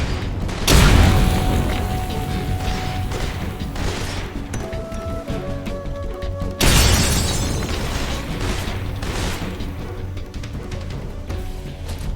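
Heavy explosions from grenades in Metal Gear Solid Delta: a big boom near the start and another around the midpoint, each followed by a long rumbling, crackling tail over dense game noise.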